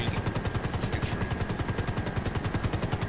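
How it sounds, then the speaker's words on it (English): Video game helicopter with its rotor chopping in a steady, fast pulsing rhythm, a loud, continuous beat that fills the scene with no voices on top. "Great, the helicopter is smoking."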